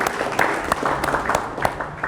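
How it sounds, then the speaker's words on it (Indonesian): A small audience gives a short round of applause, several hands clapping in a loose, brisk rhythm at moderate volume. "Boleh dong minta tepuk tangannya"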